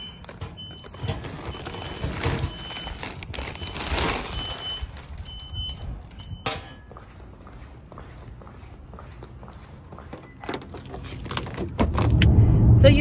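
Keys jingle as someone climbs into a car, with rustles and a door thud partway through, then a louder low rumble toward the end as the vehicle starts; no speech.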